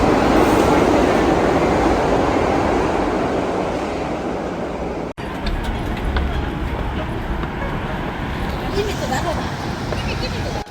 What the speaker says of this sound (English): So we just got off the subway